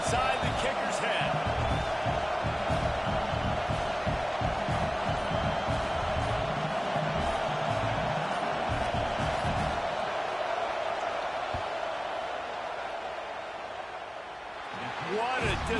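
Constant roar of a football stadium crowd in a video game as the kicker lines up a field goal attempt, loud and sustained under faint commentary, easing off slightly near the end.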